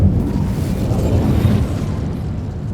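A fire spell cast in the Hogwarts Legacy video game, a dense rumbling whoosh of flame that stays loud and unbroken, with no voices.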